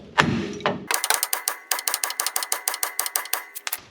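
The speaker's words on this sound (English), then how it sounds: "I'm going to go and whack the control arm, the hammer a couple of times" A quick clatter, then a rapid series of sharp metallic hammer strikes on a Chevy C10 truck's steel control arm to free the ball joint, about twenty evenly paced blows ringing close by.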